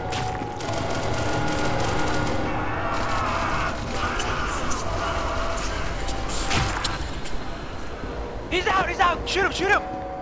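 Bursts of gunfire ring out in a chaotic SCP video game firefight, with rapid shots and impacts running through most of the stretch; a player's voice calls out near the end.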